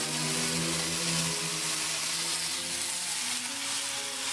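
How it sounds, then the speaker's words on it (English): A ladle of cooked-down tomato sauce hitting a hot pan of sizzling pasta, a loud continuous frying hiss with a faint low hum beneath, close and steady without any talk. "we are going to actually go ahead and put in 1 ladle of our tomato sauce, which is nicely cooked down at this point"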